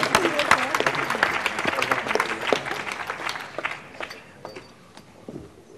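Applause from an audience at a startup contest final, honoring the participants; clapping is loud at first, then thins out into scattered claps, with some voices mixed in.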